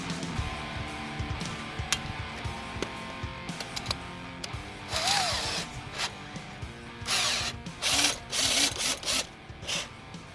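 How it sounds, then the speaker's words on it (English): A small handheld power drill boring holes outdoors in a garden bed, heard as repeated short whirring bursts that grow louder and longer toward the end, fairly close with no talking. "we like to use our little drill that helps get the holes down easier"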